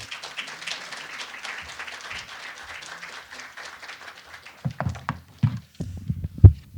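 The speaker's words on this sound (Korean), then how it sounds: "뜨거운 박수로 환영해 주시기 바랍니다" An audience at a natural gas forum claps to welcome a speaker to the podium, a soft scattered patter of many hands that thins out, followed by a few low thumps and handling noises near the microphone.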